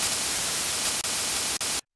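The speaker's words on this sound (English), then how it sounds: "This is white noise." Steady white noise from the Phase Plant synthesizer's noise generator, a dense broadband hiss heard alone with two brief dropouts before it cuts off.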